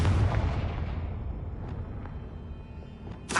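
A Confringo blast spell in Hogwarts Legacy lands as a deep, booming explosion that rolls out loud at once and fades over a few seconds, with a couple of small crackles in the tail and a fresh burst at the end.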